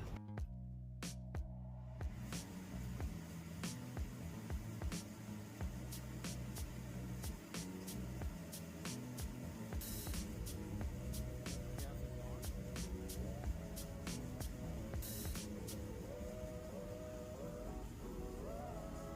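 A Sonofresco fluid bed coffee roaster, gas-fired and part-filled with beans, starts up after a few clicks and then runs with a steady airy whoosh and hum, dotted with faint ticks and crackles.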